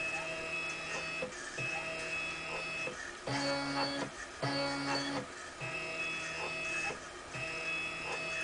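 A DIY 3D printer driven by an Arduino Mega runs a test print, its stepper motors whining in steady tones that shift pitch in bursts as the moves change, with a constant mechanical hum underneath and no talking.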